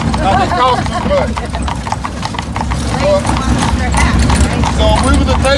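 Horses pulling a carriage in Williamsburg, hooves clip-clopping in a steady close rhythm on the street, with someone talking over the hoofbeats throughout.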